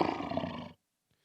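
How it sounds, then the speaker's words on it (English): A tiger growls in one loud, rough, sustained roar lasting under a second, close and alone, then cutting off abruptly into silence. "What you're about to hear, it's just a tiger growling."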